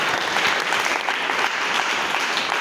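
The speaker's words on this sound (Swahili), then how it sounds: "Ungempa Yesu angalau makofi mazuri" A church congregation claps together in praise of Jesus, a dense, steady wash of hand clapping that holds at an even level throughout, with no voices standing out.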